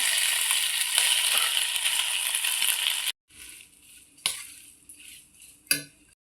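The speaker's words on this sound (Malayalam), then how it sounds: "ഇനി ഇതിലേക്ക് ഈ ഗോതമ്പ് ഇട്ട് കൊടുക്കാം" Wheat is tipped into a pan over sautéed cabbage and onion for upma, giving a loud, steady rush and sizzle for three seconds, then sparse spoon scrapes and clinks against the pan.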